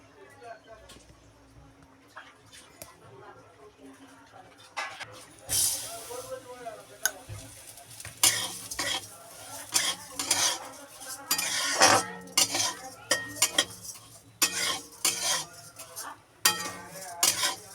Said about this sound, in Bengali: সামান্য একটু তেল দিয়ে আমি মুগ ডালটা ভেজে নেবো ভালো করে